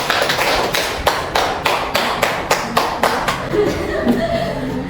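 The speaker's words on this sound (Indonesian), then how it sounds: "Kita tepuk tangan dulu untuk kelompok 4" Group 4 gets applause from a math class: a sparse, rhythmic patter of a few hands clapping fairly close by, fading out by the end, with a little light laughter mixed in.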